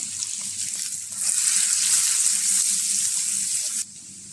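Chopped onion and 3-4 cut garlic cloves frying in coconut oil, a steady bright sizzle that rises in intensity midway, holds, then drops off abruptly near the end, with faint low background sounds underneath.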